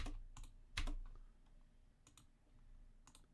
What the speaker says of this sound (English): You hear me clicking.